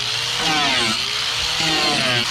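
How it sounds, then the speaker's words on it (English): An angle grinder beveling the edges of fiberglass boat stringers during an old Cobalt CS7 boat rebuild, a continuous loud whining grind with wavering pitch, close and without speech. "the reason I just took all that time to bevel these edges with an angle grinder"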